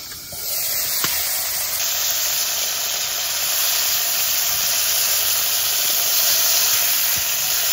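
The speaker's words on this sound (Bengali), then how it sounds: "তো ঢাকনিটা তুলে নিচ্ছি।" A lid comes off a pot of simmering curry with red bhetki fish, and a steady loud hiss of steam and sizzling follows, close and continuous, with no talk.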